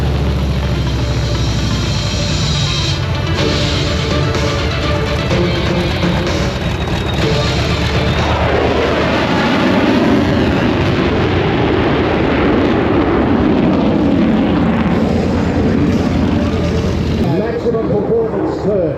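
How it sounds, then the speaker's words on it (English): A multi-role supersonic stealth fighter jet roars past at an air show, a loud continuous broadband rush that swells and shifts in pitch as it flies by, with faint voices underneath. "It's a very highly advanced multi-role supersonic stealth fighter."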